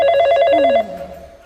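A telephone rings loudly and close with a rapid electronic trill lasting under a second, then cuts off, leaving a faint tone fading out.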